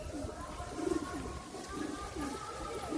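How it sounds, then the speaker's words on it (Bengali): Pigeons in a loft give several soft, low rolling coos in a loose rhythm, fairly faint, over a light background hum. "খুবই অ্যাক্টিভ পায়রা।"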